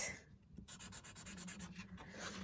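A Wild Mulberry glitter marker scratches across blue card in quick, soft strokes, faint and close, with the felt tip rasping in a rhythmic pattern.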